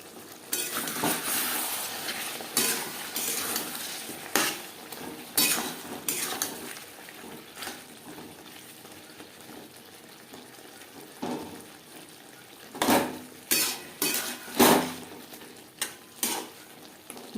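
Potatoes coated in spice paste are stirred and fried in a pan for a Bata fish curry cooked with little oil, giving repeated scraping and clinking strokes over a steady soft sizzle, with no talking.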